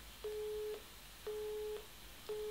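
Phone call tone repeating three times, each a steady half-second beep with short gaps, faint over a soft background hiss.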